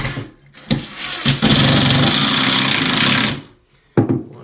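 A power driver sinks a screw into a Hampton Bay 30-inch bathroom cabinet mounted above a toilet, with a loud, steady two-second whir between short knocks and clatter close by.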